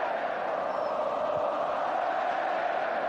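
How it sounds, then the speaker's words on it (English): Barcelona supporters in a crowd at the Grand Stade de Tangier keep up a steady, continuous roar of chanting olés, a dense wash of many voices held at an even level throughout without breaks. "Olays now from the Barcelona supporters amongst the crowd"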